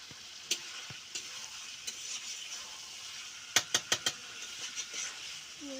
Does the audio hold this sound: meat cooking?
yes